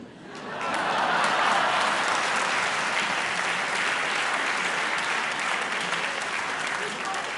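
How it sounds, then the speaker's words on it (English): A large debate audience breaks into sustained applause that swells within the first second and holds as a dense, loud, even roar of clapping to the end. "I just want to invite one more round of applause for Robert Rosenkranz for making this possible."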